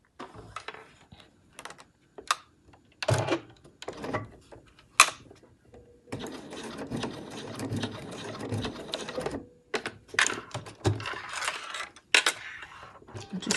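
A sewing machine stitches down a keyring panel on the lining of a Flying Bobbins Honey Backpack, running in short bursts at first, then a long steady run of close, fairly loud needle rattle, followed by more stop-start stitching.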